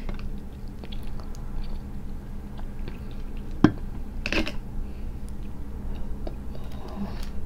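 Giant B.C. crab eaten with spicy sauce gives quiet, close chewing and soft wet bites over a low background hum, with one sharp crack of shell partway through.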